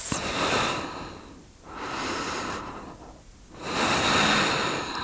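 Deep, slow yoga breathing held in a pose, three long rushing breaths close to the microphone, each breath separated by a brief pause, with no talk.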